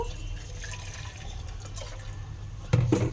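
Hot water is poured from a vessel for mixing corn flour dough. A soft, steady trickle and splash runs close by, then swells into a louder gush near the end.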